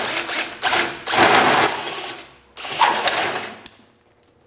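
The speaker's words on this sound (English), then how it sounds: "You just wanna line up your hole saw right on the edge of your pipe" A hole saw bites into steel tubing for a BMW roll cage, giving loud bursts of rough grinding and chattering cutting noise that stop and start in several runs, ending with a sharp metallic ring.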